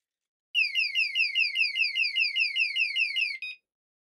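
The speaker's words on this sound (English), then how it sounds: "That's my alarm." An alarm beeps alone in a fast, steady run of about twenty identical rising chirps lasting around three seconds, close and clear, then cuts off abruptly.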